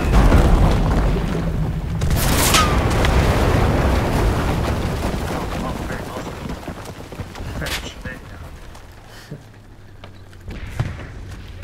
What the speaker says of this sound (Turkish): Adam uçak bombasıyla patladı.